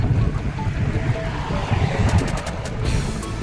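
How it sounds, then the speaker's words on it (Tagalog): Steady, rumbling wind buffets the microphone throughout, a dense low roar with a few faint clicks near the end. "May hangin."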